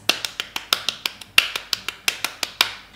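Quick semi-quaver clapping, with about sixteen crisp claps in a fast, even run, close up and with no other sound.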